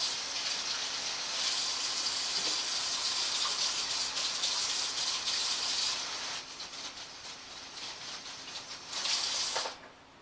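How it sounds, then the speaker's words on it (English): Water gushes steadily from a kitchen tap while hands are washed during peanut butter cookie baking, a continuous close hiss that dips briefly near the end before surging again. "Wash your hands."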